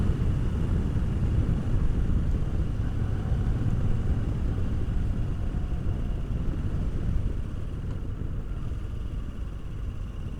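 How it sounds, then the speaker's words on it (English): A Moto Guzzi V85TT adventure motorcycle accelerates onto a freeway, its engine a steady low rumble under heavy wind roar, continuous and close from the rider's position, with no talking. "we'll do a little bit of a run-up test getting on the freeway here"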